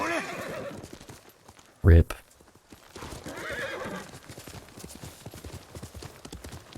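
A horse whinnies loudly once amid steady clip-clopping hooves, with a person talking over much of it.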